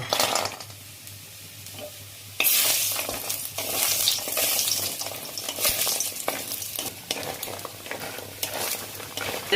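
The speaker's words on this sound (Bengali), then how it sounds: "বড়িগুলো ভেজে নেব" Lentil dumplings (bori) frying in hot mustard oil in a wok, a loud dense crackling sizzle that jumps up suddenly and continues with stirring scrapes, close by.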